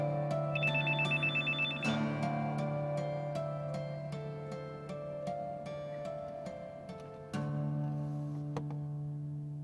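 Repeated electronic telephone tones sound over a steady hum while an outgoing call rings, with sharp clicks and a louder burst partway through; no voices are heard.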